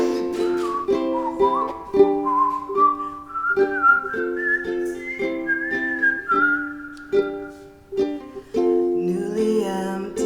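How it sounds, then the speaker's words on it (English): A person whistles a continuous, lilting melody with sustained, sliding notes, close and clear over a quieter steady accompaniment at a live Bushwick Book Club performance at Howl. "Then I just got very impressed with my own whistling."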